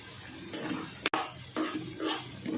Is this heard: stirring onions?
yes